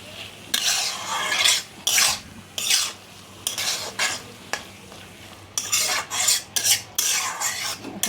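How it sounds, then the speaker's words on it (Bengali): A spatula repeatedly scrapes and stirs through notey shaak (amaranth greens) chorchori in a pan as salt is mixed in, giving bursts of loud rasping strokes with short pauses between them. "এখন আমি নুনটা ভালো করে এর সঙ্গে মিশিয়ে নিচ্ছি"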